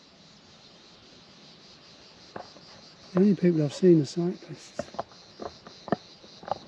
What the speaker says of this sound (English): Oh, I can hear a cicada.